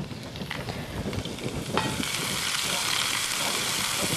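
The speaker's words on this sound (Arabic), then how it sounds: "رح حط البصلات على الزيت النباتي يلي عم قليه" Chopped onions frying in hot vegetable oil, a loud dense continuous sizzle close by, with a few light scraping stirs near the start.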